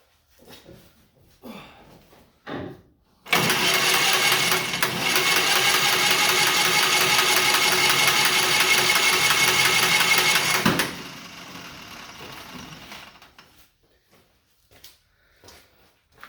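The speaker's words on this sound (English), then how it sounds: "now we're going to go ahead and turn it over with the starter motor just to see how everything sounds" Pony engine on a John Deere R tractor cranked over by its starter motor: a few faint clicks, then a loud, steady mechanical whirring churn for about seven seconds that stops abruptly, followed by quieter rattles.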